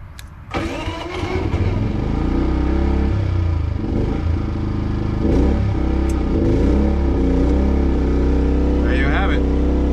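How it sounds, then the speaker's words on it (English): A portable generator starts by remote and settles into a steady mid-pitched engine drone, loud and continuous close by, with brief clatter over the running engine. "when you can turn your generator on, just fire your generator on and you can use your power"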